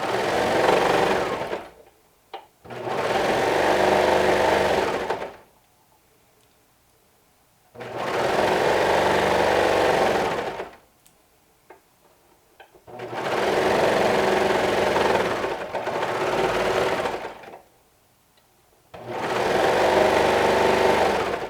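Sewing machine stitching a cozy wrap in the round, running in several bursts of steady whirring of two to three seconds each, separated by short pauses, close and without talk.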